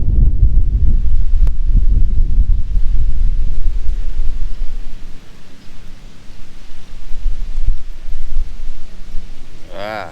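Strong wind blows across an outdoor riverbank during a fishing outing, a loud, steady low rumble buffeting the microphone for the whole stretch with no let-up.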